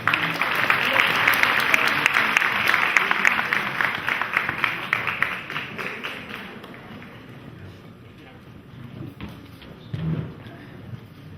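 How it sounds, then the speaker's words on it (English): Audience applause at a community fundraiser event in Toronto, a dense burst of clapping that swells loudly at first, then gradually thins and fades, with a brief stray sound near the end. "Round of applause."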